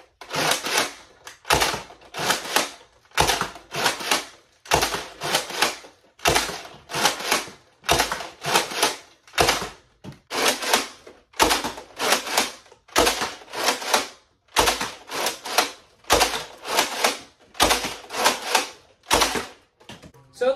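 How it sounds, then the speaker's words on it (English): A Nerf Mega Centurion blaster is primed and fired again and again, each cycle a quick burst of loud plastic clacks and a thump, repeating steadily about once a second with short gaps between. "Let's do a firing demo."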